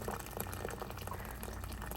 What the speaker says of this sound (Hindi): हमेशा मैं खौलता हुआ पानी ही डालती हूँ